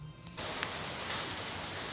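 Light rain falls outdoors in Taiwan, a steady, soft hiss that swells in after a brief quieter moment and then holds evenly, with no voices over it.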